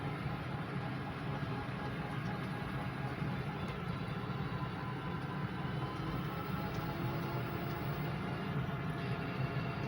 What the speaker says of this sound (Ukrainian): ось так їде електромобіль Елвін. Ось їдемо зараз по такій дорозі.